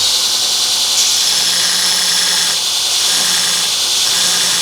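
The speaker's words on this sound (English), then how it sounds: "I'm going to grind it back and then chamfer the edge" A grinder wears back the worn tip of a blacksmith's pritchel, giving a loud, steady high whine and hiss of abrasive against steel that holds without a break, with only slight shifts in pitch.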